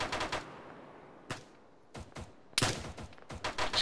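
ArmA video game gunfire in a ShackTac session with a large sniper rifle, heard as several sharp reports and bursts, some single and some in quick clusters, fairly faint.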